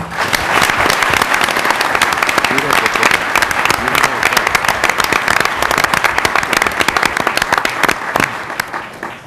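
A large audience at a San Francisco mayoral debate breaks into sustained applause welcoming the candidates, a dense, loud wash of clapping that holds steady for several seconds before starting to thin.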